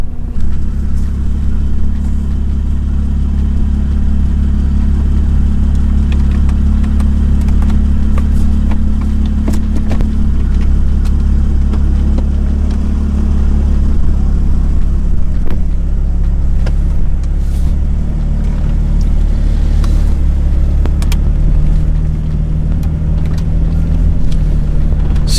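A BMW F30 engine idles steadily after a transmission flash, a loud, continuous low rumble close by with slight shifts in pitch but no hard revving.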